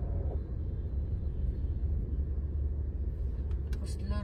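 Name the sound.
road traffic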